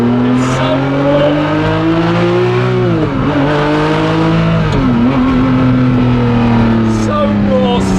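Ferrari F50 engine revving hard through first gear, a loud raw mechanical howl rising in pitch, dipping briefly at shifts and climbing again, heard close from inside the car.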